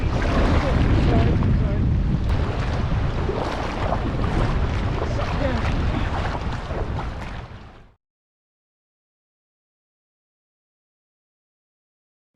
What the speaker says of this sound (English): Got really bad wind gusts, like I say 40 miles per hour.